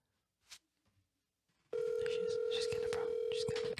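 A phone call rings out over speakerphone, a steady loud electronic tone that starts abruptly and holds, with faint voices and room noise beforehand.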